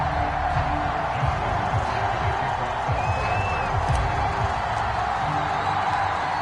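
Baltimore stadium crowd in an EA Sports football video game, a loud, steady roar of cheering filling the whole stretch.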